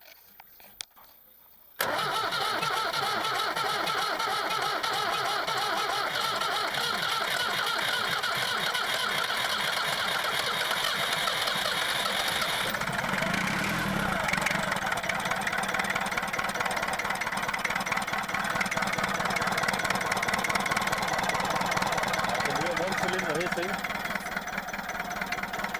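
A Perkins four-cylinder diesel on an old Lansing Bagnall FODR6 forklift cranks and catches, then runs loud and close with a rough, uneven clatter from one misfiring cylinder, revving up and down, with people talking over it.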